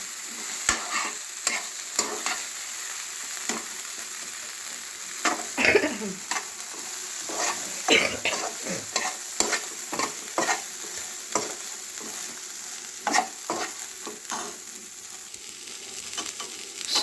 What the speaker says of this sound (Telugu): ఇంతకుముందు ఫ్రై చేసుకున్న మిల్ మేకర్, అలాగే ఫ్రై చేసుకున్న కరివేపాకు దాంట్లో వేసి మొత్తం కలపాలి